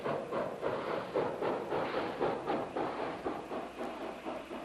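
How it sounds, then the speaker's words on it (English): Rhythmic chuffing of a steam locomotive, a steady repeating beat of hissing puffs, heard at a moderate distance. "Steam can do work, such as powering an old railroad locomotive"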